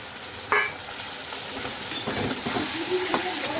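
Dried fish sizzles steadily in a hot pan for a Bengali shutki chutney, with a spatula scraping and stirring through it in several close, distinct strokes.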